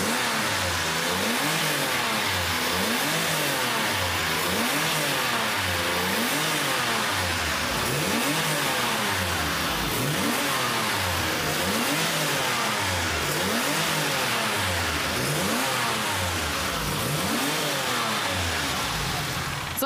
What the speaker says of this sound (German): bitte einmal richtig Gas geben